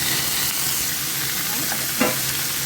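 Potato and papaya pieces drop into a hot pan for an Indian-style curry, giving a steady close sizzle throughout with one brief clatter near the end.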